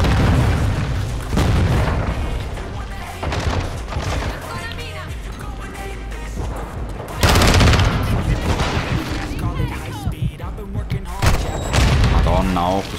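Dense, loud game combat from Call of Duty MW2 multiplayer: repeated grenade explosions and booms mixed with rapid gunfire bursts, continuous and chaotic throughout, with a player's voice speaking over it.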